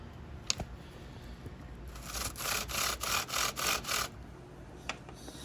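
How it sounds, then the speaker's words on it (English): Flathead screwdriver turning the tension adjuster on a STIHL or Husqvarna chainsaw chain, heard as a close, dry scraping rasp in a run of about six short rhythmic strokes, with a couple of faint clicks before and after. "Now take a flathead screwdriver, adjust it, tighten it a little bit."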